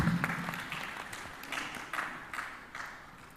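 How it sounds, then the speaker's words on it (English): Light, scattered clapping from a conference audience as a panelist walks up, a few distinct bursts of claps that thin out and fade quickly. "Please, let's give her a round of applause as she comes up."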